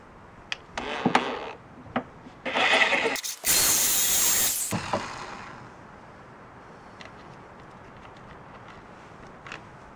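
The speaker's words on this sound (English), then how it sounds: "what I'm going to try to do is drill this out without" A power drill whirs in several short bursts, then one longer loud run, drilling out a frozen, rusted bolt, followed by quiet handling noises; close by and without talk.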